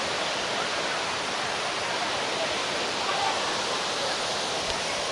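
Steady, dense rush of a waterfall near Mangalore in high monsoon flow, a constant broadband roar filling the scene without pause, fairly close and even in loudness.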